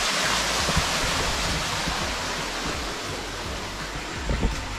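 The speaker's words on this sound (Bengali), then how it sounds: "জল বয়ে আসছে, ঝর্ণার জল।" Waterfall stream water in dense jungle near Chabimura in Tripura, a steady close rushing and gurgling flow with no voices over it.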